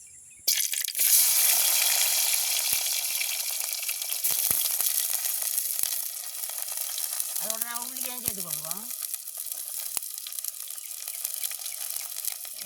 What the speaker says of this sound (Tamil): எண்ணெய் நல்லா சூடாக எடுத்து நாங்கள் இப்போ வெங்காயத்தை போட்டுக்கொள்ளுவோம்